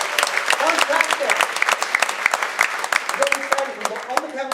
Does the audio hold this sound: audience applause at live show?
yes